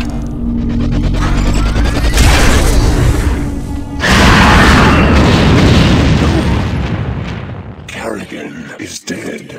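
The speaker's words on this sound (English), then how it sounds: "Fire at will. The ion cannon activated." An ion cannon fires in the StarCraft video game, followed by heavy booming explosions with a deep rumble that builds, peaks and slowly fades, loud and close.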